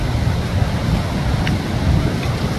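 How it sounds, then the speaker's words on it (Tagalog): Niagara Falls roars from the Canadian side as a steady broadband rush of falling water mixed with wind buffeting, continuous and even with no clear breaks. "Dyan lang, dyan yung falls ng Canada."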